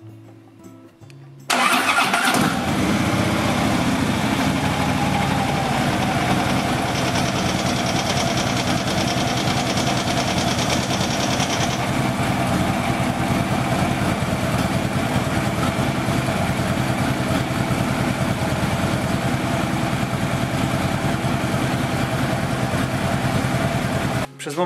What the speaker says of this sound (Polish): Po wlaniu oleju należy motor odpalić, aby olej przeszedł do filtra.